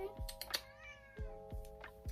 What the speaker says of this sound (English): He just slammed the door open and said, meow.